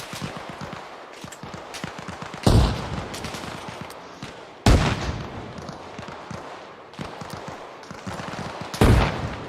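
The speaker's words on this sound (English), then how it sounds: "We're pinned down by heavy enemy fire." Heavy gunfire in the military shooter Arma Reforger: bursts of automatic fire and sharp single shots crack continuously, with several louder nearby blasts standing out at intervals.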